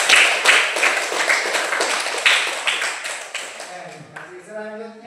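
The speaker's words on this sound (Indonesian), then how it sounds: "boleh tepuk tangan untuk kelompok 1" A classroom audience claps for a group presentation in a series of distinct, fairly close handclaps that thin out toward the end, where a voice begins speaking.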